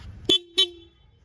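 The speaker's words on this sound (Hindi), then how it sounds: "भाई आप कोई बाइक दे रहे हो, स्पोर्ट्स बाइक दे रहे हो, तो थोड़ा हॉर्न तो जोरदार देना चाहिए" A Kawasaki Ninja 400 sports motorcycle horn gives two short, fairly thin beeps close by, the second held a little longer.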